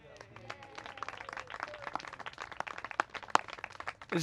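A room full of people claps for city officials, a dense patter of hands that builds slightly and continues throughout.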